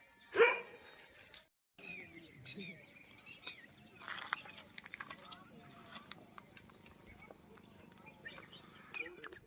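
A dog gives a loud, close bark near the start, then quieter outdoor ambience follows on a roadside walking pilgrimage toward Dwarka, with distant voices and chirping birds.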